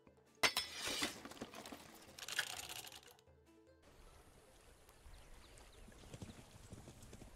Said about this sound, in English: Look, I'm on a little horsey.